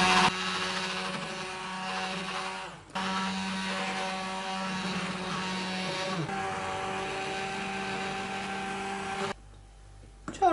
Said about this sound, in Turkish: Çorbayı blenderdan geçirelim.